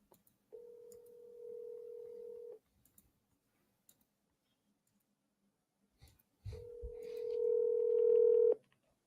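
A telephone call goes out and rings unanswered: two long steady tones separated by a few seconds of near silence, the second louder, with faint clicks between them and no talking.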